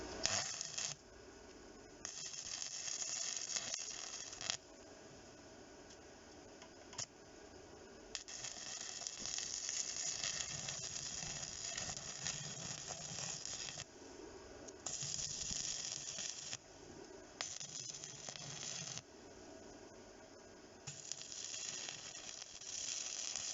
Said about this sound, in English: One nice weld all the way across.